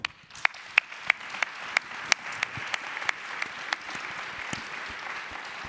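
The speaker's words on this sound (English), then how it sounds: "Maybe you also share with me a big round of applause here" An audience claps for the panelists on stage at a sustainability conference, giving steady applause with sharp, crisp individual claps standing out over the crowd's dense patter throughout.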